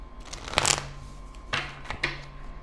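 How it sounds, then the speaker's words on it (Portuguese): Tarot cards shuffled by hand at close range, with a brisk riffling burst followed by a few softer flicks and taps, with no voices. "Muitas cartas, tá? Vou embaralhar de novo."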